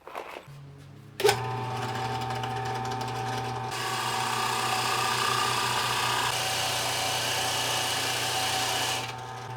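A drill with a 35 mm bit cuts a shallow recess into a guitar body, starting with a sharp click, then a steady whirring grind that grows louder, holds and cuts off near the end.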